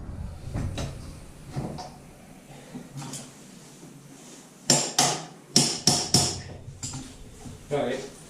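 Sharp hammer blows driving a lift kit part into a Can-Am Outlander quad, a cluster of five loud strikes in quick succession after scattered lighter knocks and workshop handling noises.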